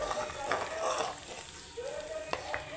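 Onions frying in a pan while browning give a soft, steady sizzle, close and fairly quiet, with a few clinks and stirring sounds and faint voices in the background.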